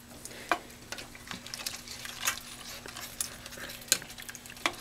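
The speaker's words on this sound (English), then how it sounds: "We just stir it and stir it in." A spoon stirs white chicken chili in a pot, scraping and clinking against the metal with soft bubbling, irregular taps and scrapes close by.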